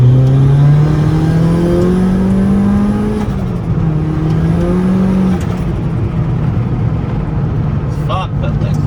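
Turbocharged Lancer Evo with a 4G93 SOHC engine pulls hard while its clutch slips, the engine note droning and rising steadily, loud and close from inside the car, with voices talking over it.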